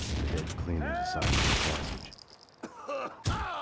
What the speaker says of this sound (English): So I'm going to kill this guy with a grenade.